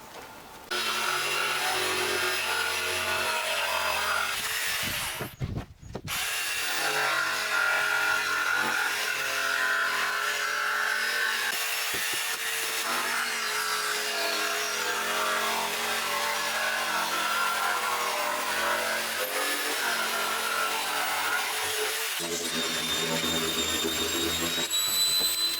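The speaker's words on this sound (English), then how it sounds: "All I have to do now is cut this out. I'll do that with the probably with the jigsaw." A jigsaw cutting out a plywood cover for a repurposed trash can, a continuous loud buzzing cut that runs close for most of the time with one brief pause.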